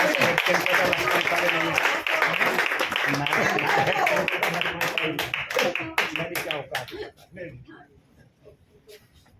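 Audience applause at a Delhi Hindi poetry gathering (kavi sammelan), dense clapping from a crowd sustained for several seconds, then thinning into scattered claps that fade out near the end, with voices mixed in.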